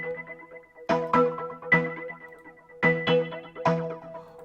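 Layered synth tones with percussive attacks, programmed in FL Studio for an Afrohouse beat, repeat a bouncy syncopated riff of bright stabs and short decaying tails, heard up close and alone.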